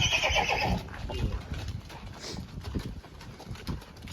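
A horse whinnies loudly and close at the start, followed by quieter shuffling and faint hoof and movement sounds outdoors.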